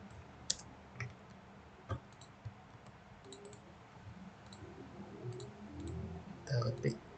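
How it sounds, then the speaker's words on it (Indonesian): Clicks from a computer keyboard and mouse sound close but faint, some sharp and isolated, others in short bursts. A low murmur of voice comes in toward the end. "Kita ketik."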